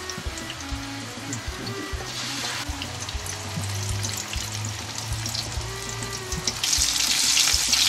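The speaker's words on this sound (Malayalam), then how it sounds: "എണ്ണയിലേക്ക് തിളച്ച എണ്ണയിലേക്ക് നമുക്ക് മാറ്റുക." Sukhiyan, cooked green gram dipped in batter, fries in hot oil with a steady, dense sizzle and crackle that grows louder near the end, with no voices.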